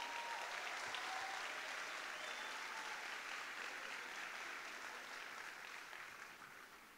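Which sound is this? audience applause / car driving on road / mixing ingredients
audience applause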